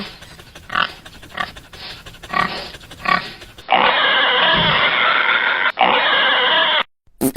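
Wild boar being caught: a loud, close pig squealing and grunting in repeated bursts, then a long continuous squeal with brief breaks near the end.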